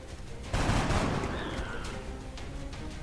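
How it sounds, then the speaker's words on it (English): A burst of gunfire from the XCOM: Enemy Unknown game erupts suddenly and rolls on as a loud rattling fusillade, then tapers into a lingering rumble with scattered sharper cracks. "I'm gonna fire on him."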